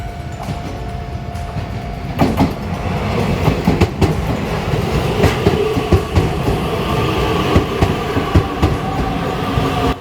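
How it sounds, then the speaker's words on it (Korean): A local commuter train rolls through a Tokyo level crossing, producing a loud, close, continuous rumble with rhythmic wheel clatter and a few sharp clicks. No voices. "그렇게 불과 20초 뒤 또 다른 완행 열차의 모습이 보이기 시작합니다."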